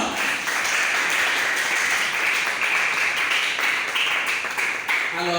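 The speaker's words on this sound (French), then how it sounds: "Encore sous vos applaudissements." Continuous applause from a church congregation, a steady, full-sounding crowd clapping that holds at an even level throughout.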